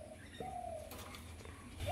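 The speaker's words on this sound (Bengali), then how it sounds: "এগুলো কিন্তু আমারই এক ভাইয়ের পায়রা, আপনাদের কাছে ভিডিওর মাধ্যমে দেখিয়ে দিচ্ছি" Domestic pigeons coo softly nearby, with a couple of low, rounded coos against a quiet background.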